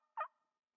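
One short, high-pitched yelp from a quadruple-reed turkey mouth call, close and clear, then silence.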